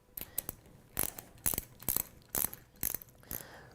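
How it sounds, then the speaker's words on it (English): A 9/16 socket and ratchet loosens the retaining bolts on a Gorman-Rupp T Series pump, giving repeated bursts of sharp metallic clicking, close and loud, with short pauses between strokes. "The first thing that you want to do with your 9/16 socket and ratchet is loosen the 4 retaining bolts"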